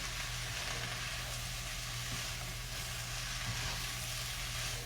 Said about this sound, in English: I'm just going to let this fry up for a minute